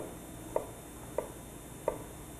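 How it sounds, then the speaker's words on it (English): A knife slicing through an onion on a cutting board, three crisp, evenly spaced cuts, close and clear against a faint steady background hum. "So we're just creating some onion slices here."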